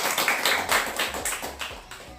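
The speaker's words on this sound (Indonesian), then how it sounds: "Oke, tepuk tangan dulu kita." Group of students clapping hands together in a classroom counseling session, a brisk run of close, sharp claps at a steady rhythm without talk.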